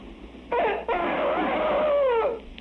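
A voice imitates a chicken with a series of rising and falling clucking, squawking sounds, loud and close, on an old-time radio broadcast.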